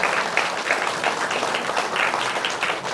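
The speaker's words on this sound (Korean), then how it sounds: "예, 박수 좀." Veterans of the Vietnam War in the audience at a book concert are applauded, a dense, steady burst of many hands clapping that stays fairly loud throughout with no speech over it.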